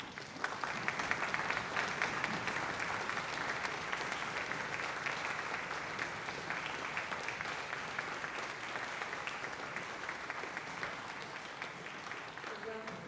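Dense, steady audience applause for youth orchestra musicians as they stand at a concert, sustained evenly for over ten seconds in a large hall without a break.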